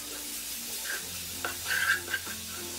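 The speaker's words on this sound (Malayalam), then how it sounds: "ഇനി ഇതെല്ലാം കൂട്ടിയിട്ട് നന്നായിട്ടൊന്ന് മിക്സ് ചെയ്ത് കൊടുക്കാം." Paneer masala with gram flour and yogurt is stirred in a frying pan, giving soft, close sizzling under a few scraping strokes of the spoon that grow briefly louder.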